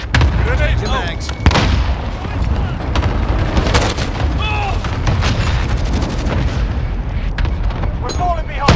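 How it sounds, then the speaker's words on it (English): A cluster strike in Call of Duty: Modern Warfare sets off a barrage of heavy explosions, booms stacking rapidly over one another amid gunfire and game chatter, loud and close throughout. "Cluster strike incoming."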